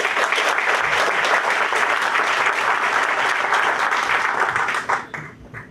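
Audience applause for a panel of professionals at a business conference, a loud, dense burst of clapping from a sizable crowd that holds steady for about five seconds before tapering off at the end.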